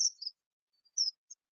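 Birds give their evening song in a few thin, high chirps, brief and fairly faint, separated by silence.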